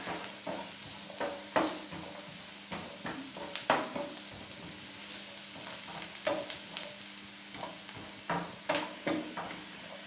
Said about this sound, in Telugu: మిరపకాయలు వేపించేటప్పుడు మూత పెట్టుకోవాలి, లేకపోతే సిండి మీద పడతాయి.